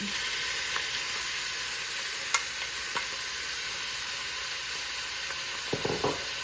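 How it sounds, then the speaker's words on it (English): Beef browns in vegetable oil in a pot with a steady, even sizzle, broken by a few small clicks and pops and soft stirring knocks near the end. "So I'm gonna go ahead and start slowly adding the beef here. And I'm going to let this beef cook down a little bit."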